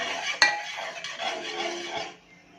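Sugar being stirred in a pot as it dissolves for jelly, a short scraping and rasping of a utensil against the pot with one sharp clink near the start, fading out at the end.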